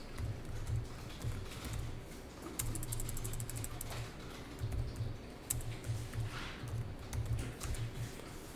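Rapid clicking of keys on a computer keyboard as accounting entries are typed, coming in irregular bursts with short pauses, fairly close and steady.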